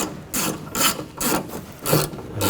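Ratchet wrench clicking in repeated bursts as it backs a bolt out of a window regulator in a 2014-2020 Nissan front door, five close, crisp spurts of rapid pawl ticks with short pauses between, no talking.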